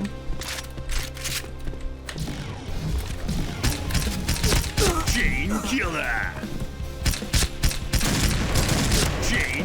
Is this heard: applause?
no